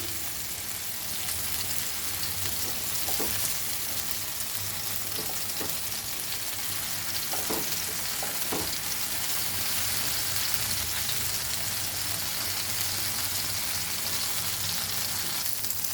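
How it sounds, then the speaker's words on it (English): Banana fritters shallow-fry in a pan with a dense, steady sizzle and crackle throughout, close and even, with a few faint clicks of a utensil now and then and no voices. "Fry this golden brown."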